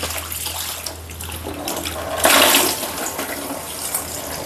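Tap water runs steadily over freshly scraped ginger being washed, a continuous splashing hiss that swells louder for a moment midway, with no talking.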